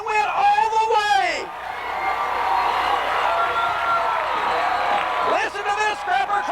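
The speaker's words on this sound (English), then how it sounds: "Listen to this Scrapper crowd. The entire crowd is erupted" A football crowd at a 1996 Nashville Scrappers game roars and cheers loudly for several seconds after a long touchdown run, with whoops and yells, while an announcer talks over it at the start and end.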